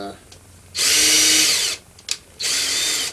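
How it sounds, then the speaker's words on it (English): A handheld power drill fitted with a tiny bit bores pilot holes in a plastic model kit, two sustained high-pitched whining bursts close by, separated by a short pause and a brief click. "I got holes to drill here"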